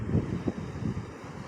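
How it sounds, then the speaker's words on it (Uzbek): Atlantic Ocean waves washing onto a shore over stones, a low rushing surge with two or three soft swells rising and falling, steady wind-like noise throughout, no voices. "Oyoqqa, belga to'lqinlar shuna mazza eshitilyapti."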